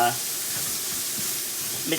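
Steady hissing sizzle of cinnamon and spices frying in a hot pan for vegetarian moussaka, continuous and fairly close, with faint voice-like sounds at the edges.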